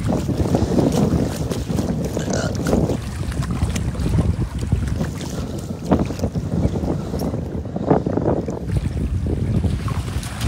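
Strong wind buffets the microphone on a fishing boat at sea, a loud, continuous roar with gusty rumbling and splashing water throughout.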